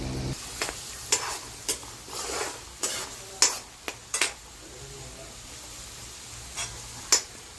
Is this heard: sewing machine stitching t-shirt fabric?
no